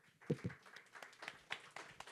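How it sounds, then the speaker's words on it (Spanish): A handful of people clap faintly at the close of a formal public session in a cinema hall, a few scattered claps that thin out after a couple of seconds. "Aplauso"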